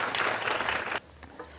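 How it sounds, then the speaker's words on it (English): Students at a girls' climate-action event give a short burst of dense, moderately distant applause that stops abruptly after about a second, leaving quiet room tone. "give a round of applause"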